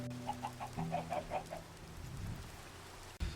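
Chickens in Minecraft give a quick run of soft, rhythmic clucks over steady rain noise, then fade, leaving only the rain hiss and a sudden thump at the end.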